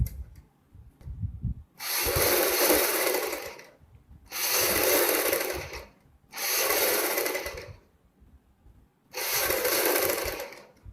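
Sewing machine running a long straight seam on a suit, four sustained bursts of whirring stitching separated by short pauses, close and loud.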